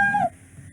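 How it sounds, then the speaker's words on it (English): A single short cartoon cat meow sound effect plays in Scratch, a bright falling tone lasting a fraction of a second, then near silence. "then it also plays meow sound"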